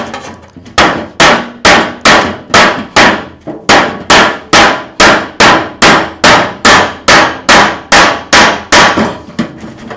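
Sharp metallic blows ring out about twice a second, loud and close, as a pattern is cut into an empty tin oil can, a steady run of around twenty strikes with no voices.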